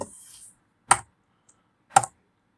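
Two sharp, isolated keystroke bursts about a second apart on a computer keyboard while a spreadsheet formula is entered, close and clear, with a faint hiss at the start and silence between.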